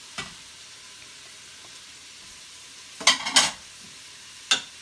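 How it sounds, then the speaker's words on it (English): Spices, meat and vegetables stirred in an Instant Pot, quiet background with a few sharp clattering scrapes of a spoon against the pot in short bursts. "All that is stirring, get those spices mixed in with that meat and with those vegetables"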